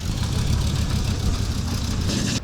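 A car engine runs steadily at close range, a low continuous rumble with a faint whir above it, unchanging for the whole stretch.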